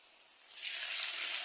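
Ginger paste drops into a hot pan while cooking masala mutton, and a sharp sizzle starts after a short quiet moment, then holds as a steady, bright hiss.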